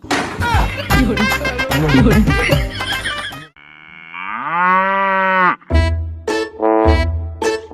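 Loud, drawn-out cow moo during Qurbani Eid rises clearly between stretches of other nearby noise, with more bursts of sound following right after.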